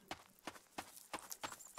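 Horses in the survival video game Rising World clop along with a steady, evenly spaced series of about eight crisp hoofbeats, fairly close and clear, with a faint whinny near the end.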